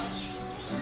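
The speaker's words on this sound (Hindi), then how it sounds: "पंछियों की आवाज आप सब लोगों को सुनाई दे रही है?" Birds chirp continuously outdoors in a dense, steady wash of calls, moderately faint and without talk over them.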